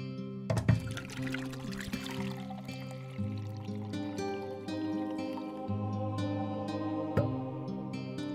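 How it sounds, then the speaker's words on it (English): Water is poured into jars, with a short splashing pour near the start and soft trickling beneath sustained music. "Fill the jars with water."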